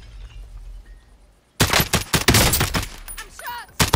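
Bursts of rapid video game gunfire crack in after a quiet opening, loud and close, with a fast automatic rattle and scattered shots.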